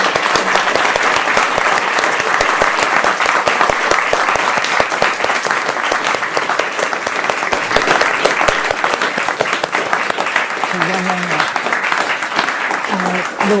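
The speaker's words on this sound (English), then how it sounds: "can we have a big round of applause for Anne and Jean-Philippe?" Loud, prolonged applause from a lecture audience at an architecture medal lecture, a dense roar of clapping hands that stays strong and even throughout, with faint voices near the end.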